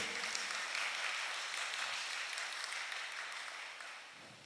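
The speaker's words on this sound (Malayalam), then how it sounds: "നമ്മുടെ ആൾക്കാരൊക്കെയാണ് കൈയടിച്ചത്" A church crowd claps at a gathering of the Malankara church, a dense steady patter of many hands heard from a distance that slowly thins and fades toward the end.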